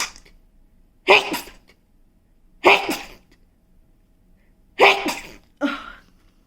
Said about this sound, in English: I don't know how many sneezes that was.